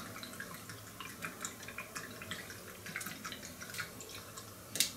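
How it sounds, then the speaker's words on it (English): A brush swishes a drop of dish soap into a little water, giving faint, scattered wet dabs and tiny drip-like clicks with no voices. "I put a little bit of dish soap in it to help break. And you just need a drop to help break the surface tension. And I just kind of mix that in there with a brush"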